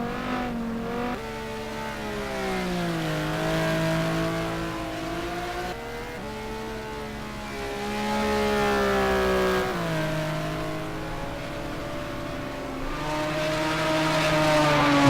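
Simulated GT race cars lapping a wet Spa circuit in a sim racing game, several engines droning and shifting pitch as they rev up and down through gears, steady and loud with no talk.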